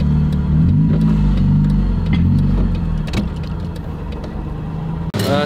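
A BMW E30 with a swapped engine revs hard and holds a loud, mid-pitched drone for several seconds, close and steady, with a brief drop near the end.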